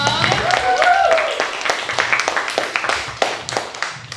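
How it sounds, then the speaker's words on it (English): An audience claps for a comedian at an improv troupe show, a short burst of scattered applause with a voice over the start, thinning into separate claps as it fades. "another round of applause for Lola"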